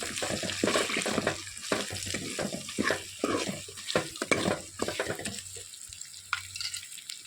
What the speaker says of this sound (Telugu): ఒక పది నిమిషాలు మునక్కాయ ముక్కలు యాగాలి తాలింపులో యాగాలి